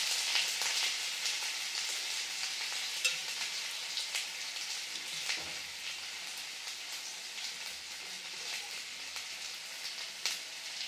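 Garlic sizzling in hot oil in a home kitchen for chicken curry, a soft, steady crackle with scattered pops and occasional utensil clicks, and no talking.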